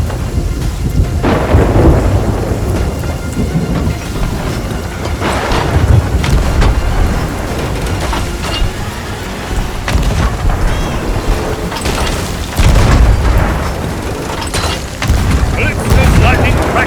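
Heavy rumbling thunder with rain and storm noise in the pirate game Sea of Thieves, magical lightning striking, deep booms swelling several times over a continuous downpour, with a voice speaking over the storm.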